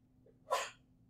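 A single short sneeze, close and sudden, rising out of near silence and fading quickly.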